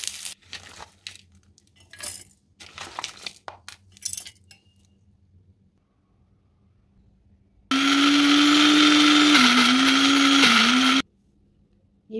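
Kitchen clatter and clinks as roasted ingredients for raw tamarind chutney go into a mixer grinder, then a loud steady whine of grinding for about three seconds before it cuts off.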